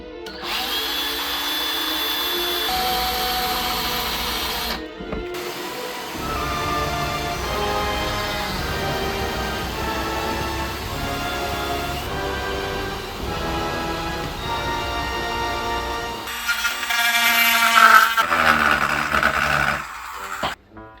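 A power drill bores a hole into the plastic shell of a Rubie's Ghostbusters ghost trap, running in several bursts with pauses between them and a louder push near the end, with no talking.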